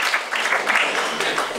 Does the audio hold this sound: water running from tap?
no